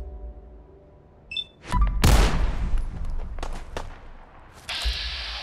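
Companion's gunfire aimed at bloodbugs in Fallout 4, a dense burst of booming shots and thuds with scattered follow-up cracks and game effects, fairly loud and close.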